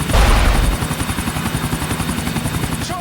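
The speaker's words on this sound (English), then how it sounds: "no matter how stable the helicopter is" Helicopter flight in Grand Theft Auto IV, a loud, steady rotor thump with a low engine drone, close and continuous, with a heavy boom at the start.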